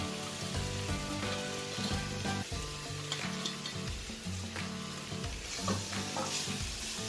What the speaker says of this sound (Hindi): पत्ता गोभी और गाजर डालने के बाद हम इसे 2 मिनट सौते करेंगे